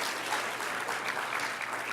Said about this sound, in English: Let's just applaud those folks.